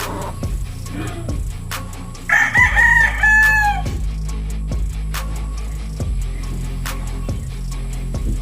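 A rooster crows once, loud and close, over a steady low farmyard hum with faint scattered clucks and clicks.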